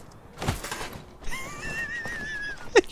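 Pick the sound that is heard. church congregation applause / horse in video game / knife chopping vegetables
horse in video game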